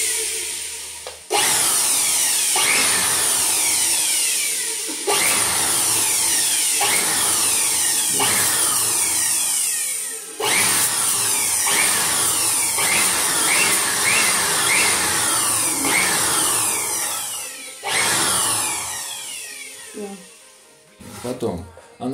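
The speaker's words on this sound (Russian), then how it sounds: "И теперь можно его использовать как пылесос." A DEKO DKBL600 leaf blower in vacuum mode runs with a loud, whining motor in long bursts, stopping and restarting several times, with rustling debris and a person talking between runs.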